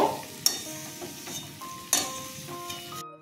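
Ash gourd stuffing is stirred in a pan as it sizzles gently, with two sharp spoon-on-pan scrapes standing out over a soft, steady frying hiss before the sound cuts off abruptly.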